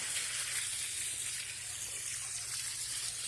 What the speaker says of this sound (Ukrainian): насипав сполений бур'ян і поливаю водою.